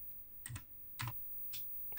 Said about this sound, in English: Here's our good old friend, the Commodore Plus 4. We will type load,